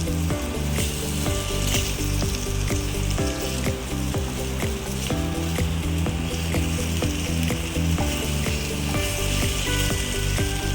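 Coriander vadi, Maharashtrian herb fritters, fry in a pan with a loud, steady sizzle, broken by frequent light crackles and soft ticks throughout.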